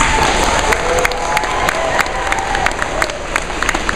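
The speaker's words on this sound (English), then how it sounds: "I think you have a cheering crowd over there" A school crowd at a literacy day event cheers and applauds, steady clapping and shouts throughout, close and loud, with a few voices calling out above it.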